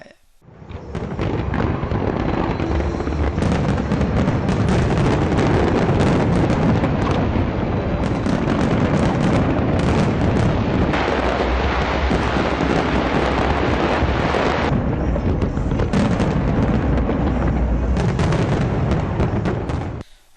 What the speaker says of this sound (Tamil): மணி ஒலித்தவுடன் சுமார் பதினான்கு நிமிடங்கள் வான வேடிக்கைகள் நிகழ்த்தப்பட்டன